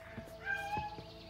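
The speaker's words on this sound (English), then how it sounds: "Meow at me." Cat in the video game A Way Out meowing a few times, short close meows with a longer tonal call in the middle, over a steady background hum.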